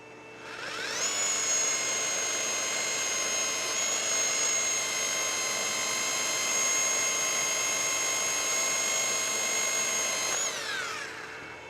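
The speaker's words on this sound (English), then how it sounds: "So I'm going to run the lathe in reverse." A lathe running in reverse drives a Vevor QTR 108 pipe sander fitted with 3M-type abrasive belts at low speed, giving a steady high whine with a smooth ramp up, an even sustained run, and a wind-down near the end.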